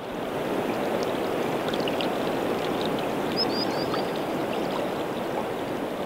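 Steady rushing of flowing stream water, loud and close, an unbroken wash of noise with no talking and only faint high chirps above it.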